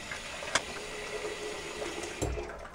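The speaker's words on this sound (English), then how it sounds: "I'm going to fill up my sink and get started" A bathroom sink fills from a running tap before a shave, a steady rushing stream with a couple of brief knocks and clinks, close and continuous with no voices.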